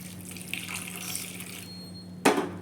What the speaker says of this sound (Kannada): ಇವಾಗ ನಾನು ನುಗ್ಗೆಕಾಯಿ ಬೇಯಿಸೋದಕ್ಕೆ ನೀರು ಹಾಕ್ಕೊಳ್ತಾ ಇದ್ದೀನಿ.